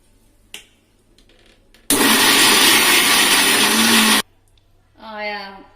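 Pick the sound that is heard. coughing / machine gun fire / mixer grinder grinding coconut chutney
mixer grinder grinding coconut chutney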